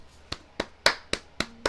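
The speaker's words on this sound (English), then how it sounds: "So I know it sounds weird, but I was clapping." Six sharp hand claps in a steady, evenly spaced rhythm, close and alone, with no talking.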